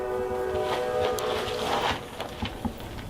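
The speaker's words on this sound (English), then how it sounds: "It always picks up when the train goes through." A train rumbles past at a moderate distance, metallic squeals and clanks rising over a steady low roar.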